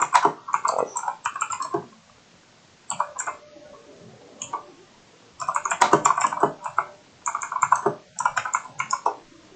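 Bursts of typing on a computer keyboard, quick clustered key clicks in several runs separated by brief pauses, close and fairly loud with no voices.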